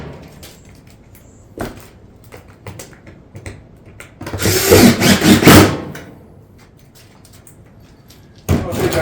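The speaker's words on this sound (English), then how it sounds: "we can go ahead, throw some fasteners down into that caulking" A power tool drives fasteners through caulking into a metal barrel vault tile roof panel during a direct bend-up install, heard as one loud sustained whirring burst of about a second and a half amid scattered clicks, with another start cut off at the end.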